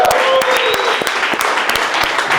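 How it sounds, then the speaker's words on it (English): A live audience claps steadily for a speaker taking the stage, a full, close round of applause with occasional sharp individual claps standing out. "Give him a round of applause."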